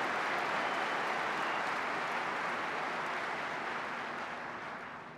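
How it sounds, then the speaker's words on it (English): Audience applause at the 2013 NRA Annual Meetings, honoring Chris and the NRA team: a dense, steady roar of many clapping hands that holds for about five seconds, then begins to taper. "Let's give Chris and the team at the NRA another great round of applause"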